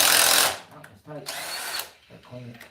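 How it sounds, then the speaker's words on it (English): An impact driver runs cylinder head bolts snug during an engine assembly, giving two loud whirring bursts with a brief pause between them, followed by someone speaking nearby. "I'm just snugging them, guys. I'm not beating them home. They're not even touching the head with the impact."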